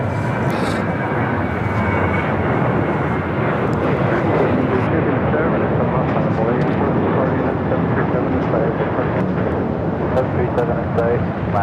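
At Phoenix airport, a jet airliner roars steadily through its takeoff run, a loud continuous engine rumble and whine filling the air, while a voice talks over it.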